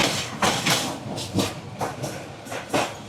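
The Kalni Express passenger train from Dhaka to Sylhet rolls along the rails after leaving Kamalapur station, its wheels giving a loud, close, rhythmic clickety-clack over a continuous rumbling hiss.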